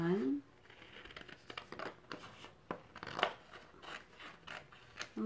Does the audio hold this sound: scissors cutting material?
yes